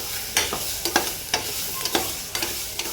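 Tomatoes sauté in a pan for egg biryani, with steady soft sizzling broken by a series of sharp spoon scrapes and clacks against the pan as the mix is stirred, close by and with no talking.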